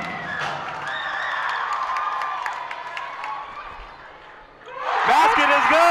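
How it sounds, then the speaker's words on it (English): A high school boys basketball crowd roars and cheers in a gym, loud and sustained, with whistles and shouts layered over it, dipping briefly before surging louder again. "It is a loud atmosphere, folks, as you can hear."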